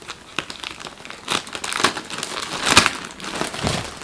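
Crinkly plastic packaging on a Marks & Spencer towel parcel being cut and pulled open, producing close, loud crumpling and crackling in irregular bursts that swell toward the middle.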